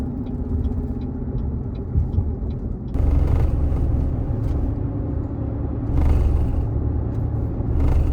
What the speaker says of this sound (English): that's your torque converter shudder